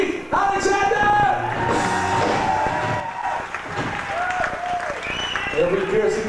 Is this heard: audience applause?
yes